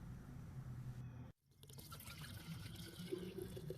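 Gasoline poured from the fuel tank of an Echo leaf blower into a jar, a soft steady liquid trickle and splash heard up close, briefly broken by a silent gap before the pour resumes.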